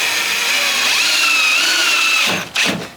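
A power drill drives temporary screws during a cottage renovation, whirring steadily and loudly for over two seconds, then stopping briefly and spinning up once more in a short final burst.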